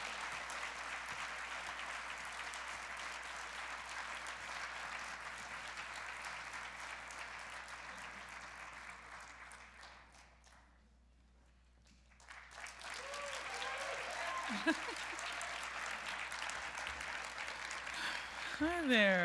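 Audience applause at a literary celebration event, a sustained roomful of clapping that fades out, goes nearly silent, then swells back as a voice starts talking over renewed clapping.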